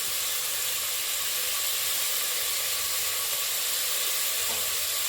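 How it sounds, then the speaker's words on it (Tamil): Spices and ginger garlic paste for green mutton gravy sauté in hot oil, giving a loud, steady, close sizzle and hiss that continues unbroken with no talking. "இப்போ இதெல்லாம் கலந்துட்டு நல்லா வதக்கிடலாங்க."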